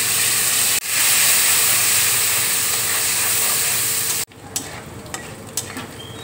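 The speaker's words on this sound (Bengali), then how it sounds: "এবার আমি নারকেল কুচিটা দিয়ে দিচ্ছি" Grated coconut fries in hot oil with whole bay leaf and whole garam masala, giving a loud continuous sizzle and hiss that breaks off briefly near the start, then drops to a quieter crackle with scattered pops.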